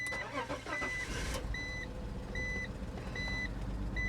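A used small 4x4 SUV bought at a salvage auction is started with its ignition key: a brief cranking burst settles into a steady idle, with repeated electronic warning chimes beeping over the engine.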